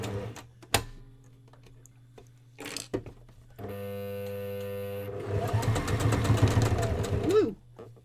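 A home sewing machine stitching fabric, including back stitching, runs in a steady whirring burst that speeds up into a fast, loud, excited run, then stops.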